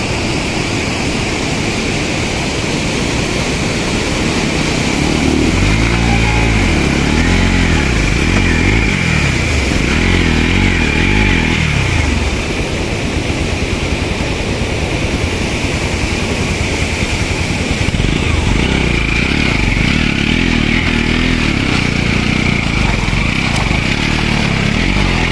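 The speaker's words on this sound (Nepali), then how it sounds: "बाइक आइसक्यो" A motorcycle engine drones and revs on a muddy off-road mountain trail in the monsoon season, loud and continuous with rising and falling pitch, with no talk over it.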